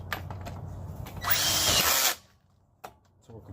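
An impact-style power tool tightens lug nuts on a 2002 Tahoe during a steering tie rod job, sounding as one loud buzzing burst of under a second, close by, followed by brief clanks and quiet.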